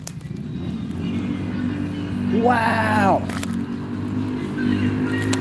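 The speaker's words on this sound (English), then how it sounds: "You hear that? That's a bike." A loud motorcycle passes on a road during a walk, its engine roaring steadily and swelling as it goes by, with a brief exclamation from a nearby voice over it.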